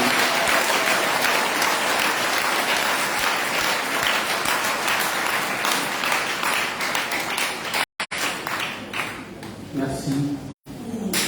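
A church congregation at a Christian unity prayer-week celebration applauds the commission with loud, sustained clapping from a large crowd, running for around eight seconds before briefly cutting out and resuming more raggedly.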